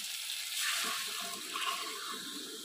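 Hot water pours into a simmering fish roe curry with potatoes, giving a soft, steady hiss and bubbling sizzle that swells and eases. It stays fairly quiet, with no talking.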